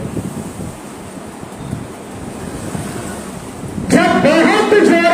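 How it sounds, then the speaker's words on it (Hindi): Strong wind roars steadily as a loud, broad rush with no talk, and a louder, more tonal surge of gusting comes in near the end. "जब बहुत जोरों की वायु हवा चलने लगी, बहने लगी, शीतल मंद सुगंध हवा"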